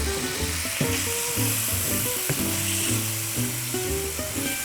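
A tablespoon of balsamic vinegar hits a hot pan while making a gourmet pizza with bacon, giving a close, continuous sizzle beneath tonal, melodic background sounds.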